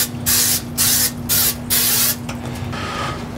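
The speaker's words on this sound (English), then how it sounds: "I'm gonna spray the inside, the entire inside of this cooking chamber." Four short bursts of vegetable oil spray hiss in quick succession inside an offset smoker's cooking chamber, close and loud, over a low steady hum, followed by quieter hissing.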